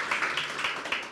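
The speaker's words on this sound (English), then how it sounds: "it deserves a round of applause." Hands clap in a quick, steady run of about half a dozen sharp claps during an interview, close and moderately loud, with no talking over them.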